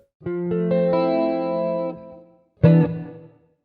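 Electric guitar through chorus and distortion effects, strumming a seventh chord that rings for under two seconds, then one short, sharp second chord, close and clear with no voices.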